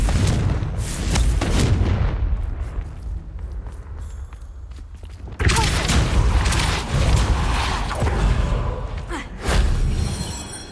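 Confringo fire spells blast in Hogwarts Legacy during hard-mode combat, with loud, booming explosive bursts and crackling impacts that repeat in clusters, mixed with scuffling movement and other battle noise.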